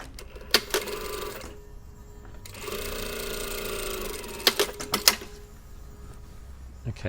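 A sewing machine seams the rib of a jacket sleeve in two short bursts of fast mechanical whirring, close and fairly loud, separated by pauses with sharp clicks and fabric handling.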